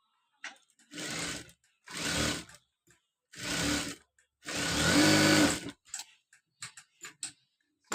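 A sewing machine stitches the armhole of a uniform coat in short, separate runs, four quick bursts of whirring that end in a longer final pass, with faint ticks and clicks between them.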